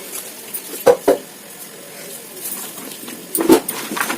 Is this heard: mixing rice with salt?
yes